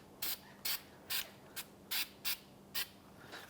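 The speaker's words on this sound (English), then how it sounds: "Now I'm going to spray on the hub surface here some anti-seize." Anti-seize is sprayed from an aerosol can onto the hub surface of a 2011-2016 Hyundai Elantra during front brake work, in about eight short, quiet, separate hisses spread over a few seconds with no talk.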